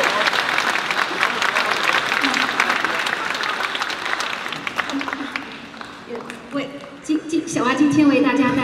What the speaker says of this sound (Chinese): 我想我们应该用掌声再次请他上台